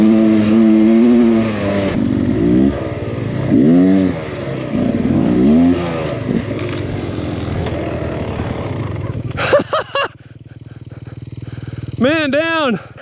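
A Beta XTrainer 300 dirt bike engine revs in repeated rising and falling bursts, loud and close, with sharp high blips near the end, while people talk over it.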